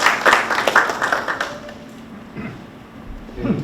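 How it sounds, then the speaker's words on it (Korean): Audience at a Busan labor rights center forum claps in welcome as the center director is introduced, a dense burst of applause in the first second and a half that thins to scattered claps and faint room noise. "박수로 맞아주십시오."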